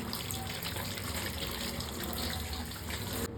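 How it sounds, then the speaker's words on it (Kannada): Raw chicken pieces are rinsed in a basket under a running tap in a home kitchen, giving a steady, close, continuous gush of water with no talking. "ಇಲ್ಲಿ ನೋಡಿ, ಕಂಪ್ಲೀಟ್ ನೀರು ಹಾಕಿ ವಾಶ್ ಮಾಡ್ಕೋಬೇಕು"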